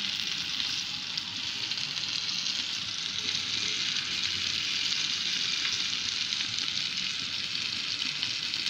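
Kofta meatballs fry in a shallow layer of oil, giving a steady, close hiss and crackle that runs unbroken and evenly loud, with no one talking.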